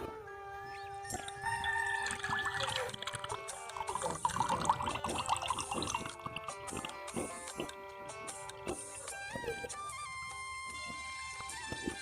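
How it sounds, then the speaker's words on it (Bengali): A brown liquid mixture is poured through a strainer, making a fairly close, continuous trickling and splashing with scattered small clinks and taps of the strainer and vessel. "তারপর বন্ধুরা আমরা ছেঁকে নেব"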